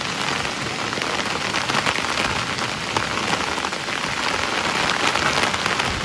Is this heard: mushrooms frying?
no